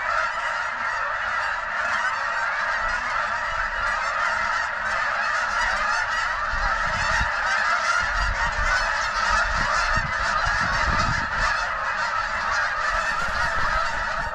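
A flock of geese honks loudly and continuously, a dense overlapping chorus of calls lasting throughout, with no talking.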